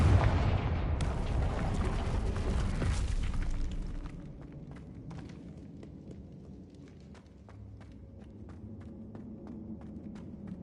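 Confringo blasting spell in Hogwarts Legacy on PS5, a loud rumbling explosion that fills the first few seconds and then fades, followed by quieter scattered clicks and footsteps in the game.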